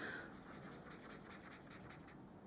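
Rapid, soft scratchy strokes of a blender pen rubbing back and forth on paper, close and quiet.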